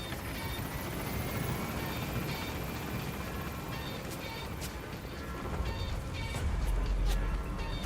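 A helicopter in Metal Gear Solid V hovers nearby with a steady rotor and engine drone, plus scattered sharp game effects and a deeper rumble swelling near the end.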